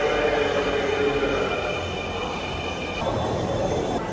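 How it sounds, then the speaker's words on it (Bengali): A Dhaka metro rail train arrives at a station, a steady loud rumble of wheels and running gear with faint high squeal, continuous throughout with no talking. "দেখতে পাচ্ছেন একটা ট্রেন আসছে"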